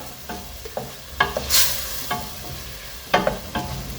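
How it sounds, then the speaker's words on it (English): Smoked paprika stirred into beef goulash in a pan, a few spatula scrapes and taps over a low sizzle, with one brighter hissing burst in the middle, close up. "Give that a quick stir."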